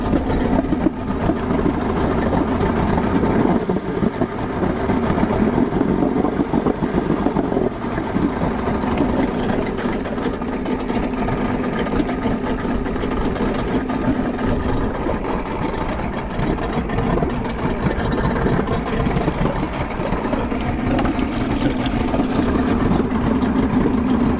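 Mercury 150hp XR6 Blackmax outboard engine idling, a steady, rough low rumble with a constant mechanical hum, close and continuous for the whole stretch, no talking.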